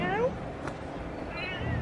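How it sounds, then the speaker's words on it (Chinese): An orange tabby cat meows a couple of times in close, clear calls, with people talking softly around it. "这是橘猫吗？"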